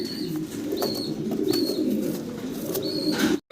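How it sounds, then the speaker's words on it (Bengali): A pair of Andalusian-colored dragon homer pigeons moves restlessly close by, cooing low and steady while short high chirps repeat overhead, ending in a sudden cut-off. "কবুতরগুলো মাসাল্লাহ খুবই চঞ্চল ছোটাছুটি করতেছে"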